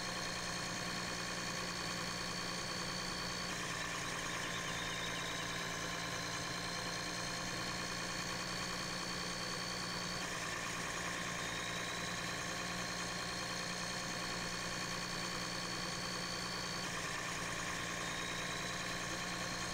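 A 2017 Ford F650 service truck in Farming Simulator 17, its engine giving a steady, continuous mid-pitched drone with a faint rising whine as it cruises, heard alone without voices.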